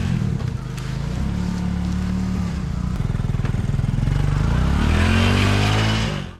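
A motorcycle labours up a slick, rocky dirt road in a remote village in Sukakerta, Indonesia, its engine droning steadily and loud, then rising in pitch as it strains near the end.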